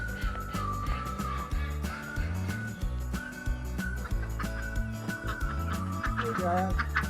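A flock of chickens waiting to be fed clucks and squawks repeatedly up close, their calls overlapping in an uneven, busy rhythm.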